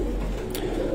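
A prized pet pigeon coos in a close, loud, steady low throaty burble that fills the whole moment without a break.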